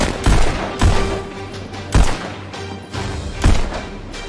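Gunshots in the VR shooting game Pistol Whip, several sharp loud blasts spaced about every half second to a second and a half, with a steady music beat underneath.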